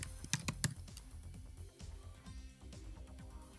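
Computer keyboard typing, a short burst of crisp close clicks at the start followed by lighter irregular taps, quiet and alone.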